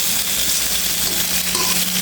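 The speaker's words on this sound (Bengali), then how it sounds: "একই তেলের ভিতরে আলুগুলো আমি সুন্দর করে ভেজে নেব।" Potato pieces frying in hot oil give off a steady, dense sizzle that runs without a break, close and fairly loud, with no voices over it.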